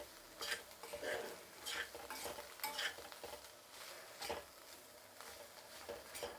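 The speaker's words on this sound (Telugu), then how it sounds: "ఇప్పుడు బాగా కలుపుకుందాము." Vegetable pieces coated in chili powder are stirred in a pan, making soft scraping and shuffling strokes over a quiet, light sizzle, with a few clinks of a utensil against the metal.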